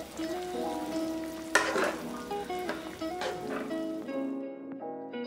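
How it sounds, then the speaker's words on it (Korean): A pot of Korean young pumpkin soup with salted shrimp and a pinch of pepper bubbles and sizzles on the stove while a spoon stirs it, with a few clinks against the pot before the sound cuts off near the end. "새우젓 1스푼과 반스푼, 후추 약간 넣고 잘 저어서 5분 끓여줬다"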